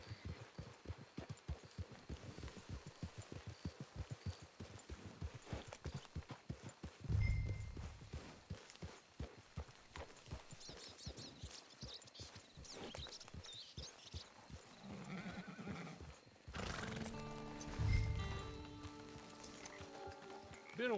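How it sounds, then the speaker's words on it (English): Horse hooves clip-clop steadily in the video game Red Dead Online, with a few brief neighs and snorts midway and near the end, under quiet game ambience. "Get your horse."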